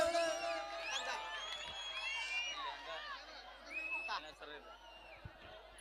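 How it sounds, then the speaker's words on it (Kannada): An audience at a live stage show with singers whoops and cheers, giving shrill whistles and excited shouts over crowd noise, while people talk throughout. "ಬರ್ಲಿ ಜೋರಾದ ಚಪ್ಪಾಳೆ"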